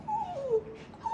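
A dog whimpers in a short, thin, wavering whine that dips in pitch, faint and close, alone without talk.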